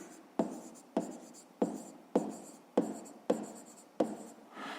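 Pen strokes on paper while a math solution is written out, seven distinct scratchy bursts in a steady rhythm, close and fairly quiet, with no talk.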